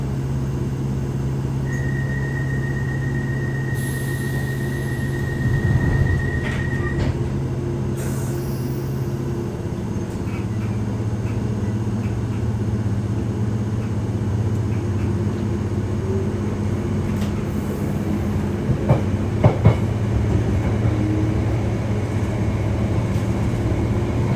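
A London Underground Piccadilly line train bound for Uxbridge runs steadily, a continuous low rumble and hum of wheels and motors with a sustained tonal whine and occasional clanks, filling the carriage throughout.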